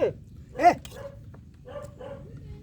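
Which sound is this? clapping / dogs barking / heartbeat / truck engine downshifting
dogs barking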